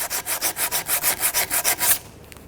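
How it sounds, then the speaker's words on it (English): Coarse 80-grit sandpaper scrubs rust off the front lower control arm of a 1992-1996 Toyota Camry in a steady run of about a dozen rhythmic back-and-forth strokes, close and loud, then it stops abruptly. "We ended up using some 80 grit sandpaper here to try and break that rust down."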